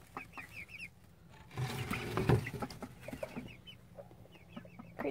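Several ducks squawk and cluck in quick, irregular bursts, with a louder scuffling flurry in the middle.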